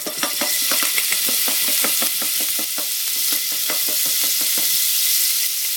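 Garlic hits a hot pan for sweet and sour pork, giving a bright, steady hiss of frying with a quick run of scraping stirs close by that tapers off near the end.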